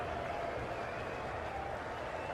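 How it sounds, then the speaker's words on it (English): A large cricket stadium crowd at an England versus India one-day international sends up a continuous, distant roar of cheering and applause, with faint commentary-like voices under the wash. "There's a huge crowd once again supporting both the sides."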